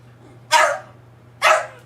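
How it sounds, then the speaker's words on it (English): A dog barks twice, sharp and close, with about a second between the barks over a faint low hum. "Are you going to bark at him or are you going to be nice?"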